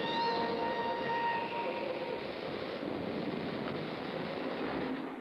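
A 1950s express steam train pulls slowly out of a station, giving a steady rumble of wheels and carriages with a whistle-like tone at the start.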